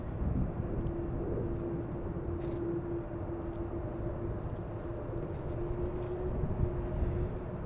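A Delta Airlines Airbus A330 jet takes off at an airport, giving a steady broadband roar with a sustained engine whine that holds for several seconds at a distance.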